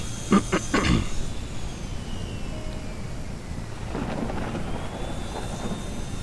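Rumbling thunder from the weather effects in the farming video game Ranch Simulator rolls on steadily at moderate loudness over rain and wind, after a few sharp knocks at the start.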